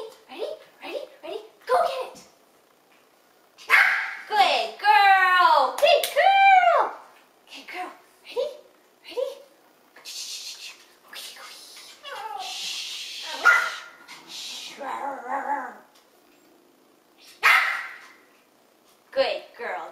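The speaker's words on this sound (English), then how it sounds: "Squeaker Dumbbell. This is a very easy toy for small dogs to pick up with their mouths." A small dog plays with a squeaker dumbbell toy, letting out repeated high yips and squeaks in short bursts across the clip while someone talks and cheers encouragement nearby.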